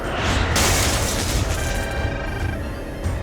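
A heavy explosion of incoming fire striking a ship, produced as a sound effect for an audio drama; it is a loud, sustained rumbling boom with a bright burst near the start, and a metallic ringing tail follows.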